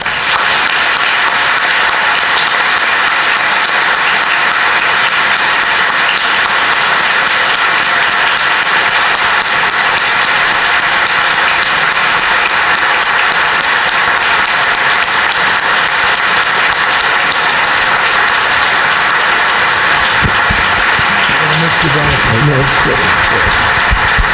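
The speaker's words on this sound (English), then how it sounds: "I ask that you please stand so that we can give you a round of applause." Sustained round of applause from a standing church congregation of parishioners, dense steady clapping throughout that thins near the end as a low murmur of movement comes in.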